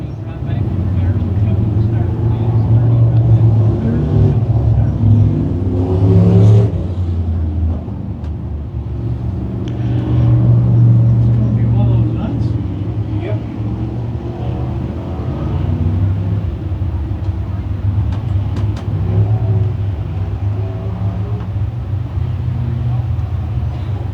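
Race car engines roar through a heat at Can Am Speedway, a dirt oval, droning and rising as cars pass, with a commentator talking over the steady engine noise throughout.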